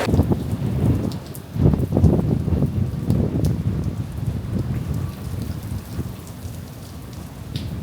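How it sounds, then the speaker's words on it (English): Heavy pouring rain lashes a cruise ship deck off Brisbane in a sudden storm with strong winds near 40 mph, a dense steady roar of rain with gusty rumbling, loud and close, no talking. "it is pouring rain and like 40-mile-an-hour winds, literally out of nowhere."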